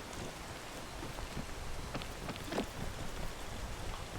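Steady rain from the video game Peak, a soft, continuous hiss of falling drops with a few faint pattering taps on surfaces, low and even throughout with no voices.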